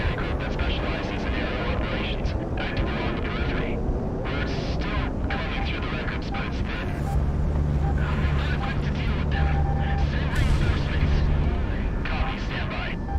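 Jet engine roar and rumbling missile fire with explosions from the aerial combat video game Project Wingman, a loud dense wash with a sustained tonal drone in the middle, under someone talking.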